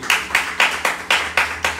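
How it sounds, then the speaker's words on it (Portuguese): A church congregation claps in unison, loud rhythmic hand claps landing about four times a second in an even, driving beat. "Você pode dar uma salva de palmas ao Senhor?"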